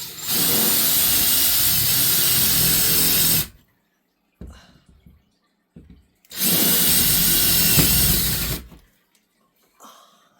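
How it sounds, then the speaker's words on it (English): A power drill whirs loudly in two long runs, each several seconds, drilling starter holes in a wall, with quiet gaps and small clicks and bumps between them. "So first we'll just drill some starter holes with our handy dandy drill"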